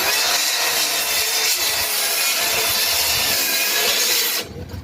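A Makita 36V LXT rear-handled circular saw bites through a wood block with a loud, continuous high-pitched cutting whine, then drops away sharply as the blade clears the wood.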